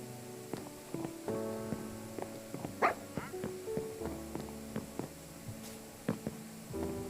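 Dogs bark in short, scattered yelps in a Minecraft survival game on a farm, rising over a steady low hum and soft tonal background sounds.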